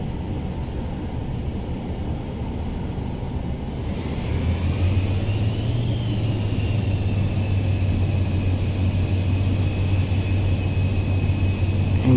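A Cirrus Vision G2 jet taxiing in Microsoft Flight Simulator 2020, a steady engine rumble and whine that rises partway through into a stronger, even drone with a sustained high tone, heard alone throughout.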